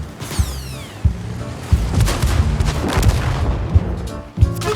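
Tank cannon and machine-gun fire from a World of Tanks–style battle with a Leopard tank, a rapid run of loud booming shots and bursts repeating every second or so across the span.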